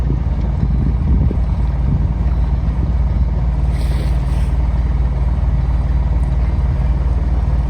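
A sailboat motors into Weymouth Harbour, its engine a steady low drone throughout with constant wind and water rush, close and loud, with no talk.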